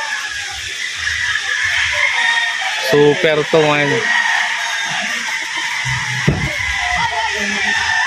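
A gamecock rooster at a conditioning flying pen crows once, loud and close, with a few clucks, over steady rain hiss; someone talks at intervals.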